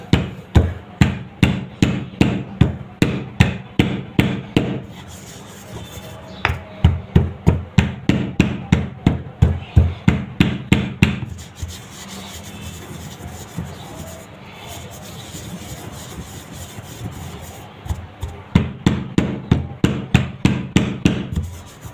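A piece of jaggery is pounded to powder with sharp, evenly spaced thuds that repeat in steady runs. There is a short pause with softer grinding in the middle before the rhythmic pounding starts again, close and loud.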